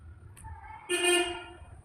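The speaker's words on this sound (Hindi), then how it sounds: "इसको इग्नोर करिए गाड़ी के हॉर्न को आप लोग" A car horn honks once in a sustained blast lasting under a second, fairly close, over quiet background room noise.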